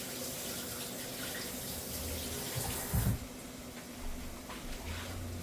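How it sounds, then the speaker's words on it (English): Running tap water splashes steadily over hands at a kitchen sink, a close, continuous hiss with a few brief louder splashes near the middle. "Now, let me just wash my hands."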